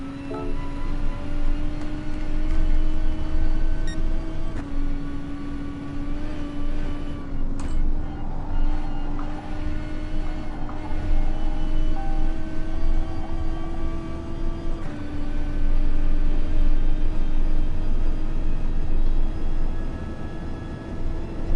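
A Gr.3 race car in GT Sport laps the Nordschleife with a loud, steady engine drone that holds one pitch and shifts at a few gear changes, continuous throughout with no talk.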